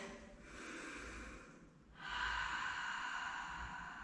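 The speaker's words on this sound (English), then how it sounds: "cleansing breath" A slow cleansing breath during a hatha yoga stretch, a soft airy exhale that swells into a fuller, louder rush of air midway, close and steady with no speech.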